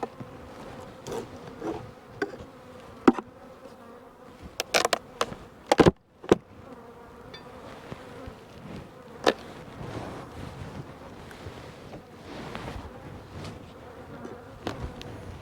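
Honey bees buzz around a thinly populated hive, a continuous low droning hum interrupted by several sharp clicks and knocks near the middle, with no voices present.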